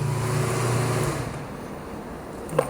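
A cafe racer motorcycle engine idles steadily after carburetor synchronization, a low continuous hum with a faint higher whine, holding even throughout with a brief click near the end.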